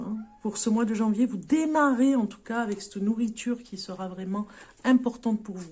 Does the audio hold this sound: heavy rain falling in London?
no